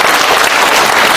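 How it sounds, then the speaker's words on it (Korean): A short, loud, close burst of audience applause at a lecture hall gathering, a dense continuous clapping that fills the whole moment with no voices. "박수 한번 주시죠."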